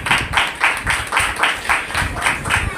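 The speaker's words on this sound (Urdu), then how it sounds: "زوردار تالیاں بجائیے" Loud applause from a church congregation during an Urdu-language sermon, a dense wash of many hands clapping in steady, rhythmic bursts that pulse roughly every third of a second throughout.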